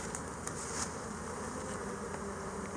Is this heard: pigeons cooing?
no